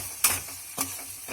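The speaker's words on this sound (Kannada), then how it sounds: "ಇದನ್ನೆಲ್ಲ ಚೆನ್ನಾಗಿ ಮಿಕ್ಸ್ ಮಾಡಿಕೊಂಡು ಎಣ್ಣೆಯಲ್ಲಿ ಸ್ವಲ್ಪ ಹುರಿಬೇಕು." Grated coconut stirred in a pan of hot oil, with two distinct scraping stirs over a soft steady sizzle, close and moderately quiet.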